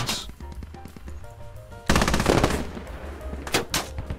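Machine-gun fire in the video game Squad, rapid bursts of shots, then a louder sustained volley and a few sharp later cracks, alone without talk.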